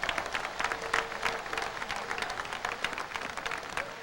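A crowd applauding at a Haitian gathering, dense continuous clapping heard from a distance, moderately faint and steady, with no talk over it.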